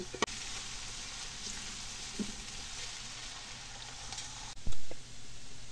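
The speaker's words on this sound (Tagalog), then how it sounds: "Lagay ko na po yung sibuyas para sabay silang mag-brown." Onions sizzle in a pan while frying for menudo, a steady close hiss with occasional clicks and a brief louder stir or clatter near the end.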